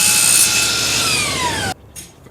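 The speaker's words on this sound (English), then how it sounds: "and then I'll give it a quick rasp like that" A rasp scrapes along the edge of a wooden deck board in a loud, rough stroke, close by, then stops abruptly, leaving brief quieter scraping.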